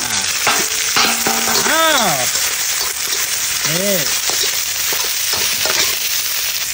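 Pork and Thai eggplant stir-fried in a pan, a steady close sizzle with scraping stirs, while someone speaks over it.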